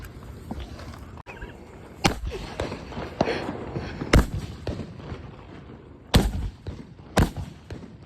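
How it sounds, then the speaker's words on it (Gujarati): Firecrackers burst outdoors during Dev Diwali celebrations, with several loud, sharp bangs at irregular intervals and fainter pops and crackles in between. "આજે દેવ દિવાળી છે એટલે અમે લોકો ફટાકડા ફોડી રહ્યા છે"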